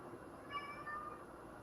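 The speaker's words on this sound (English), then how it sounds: "Was that a cat?" A single cat gives a short, faint meow indoors, heard alone against a quiet background hum.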